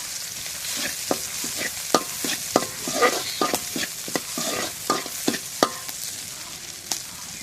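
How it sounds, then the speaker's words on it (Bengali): Crushed garlic frying in oil for a dal, a continuous close sizzle with rapid rhythmic scrapes and taps of a spoon stirring against the pan, with no talking. "রসুনটা একটু তেলের মধ্যে ভেজে নিই।"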